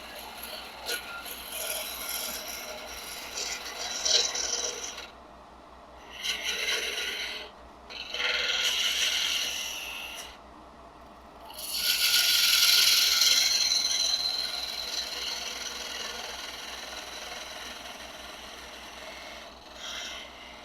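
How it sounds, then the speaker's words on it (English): A skew chisel squares off the ends of a wooden blank spinning on a lathe while an awl handle is turned, giving rasping, scraping cuts in several bursts separated by short pauses over a steady motor hum. "So we're going to go ahead and flatten off our ends here."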